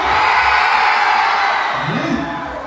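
A crowd of youth campers lets out a loud collective cheer chant, sustained and bright, trailing off near the end as a few voices linger.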